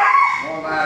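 A young protection dog in bite-suit training lets out one loud, close bark that trails off quickly, with a human voice mixed in.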